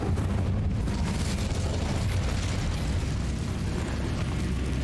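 A fire spell cast in the Hogwarts Legacy game makes a continuous, dense roaring whoosh, like a blast of flame, that holds at a steady loudness for about five seconds with no talking.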